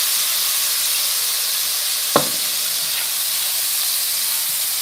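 Cream sherry deglazes a hot pan of king trumpet mushrooms, giving a loud, steady sizzling hiss that fills the whole stretch, broken once by a single sharp tap midway.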